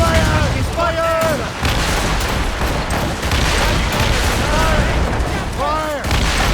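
Ship cannons firing in naval combat in the video game Assassin's Creed Rogue, a dense, continuous barrage of booms and blasts heard close and loud, with shouted voices and game effects layered over the gunfire.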